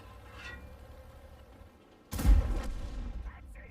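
A tank gun in World of Tanks, a Tier IX Waffenträger auf Pz IV, fires standard rounds: one sudden loud boom that rolls off into a rumbling tail, coming after quieter engine-like background noise.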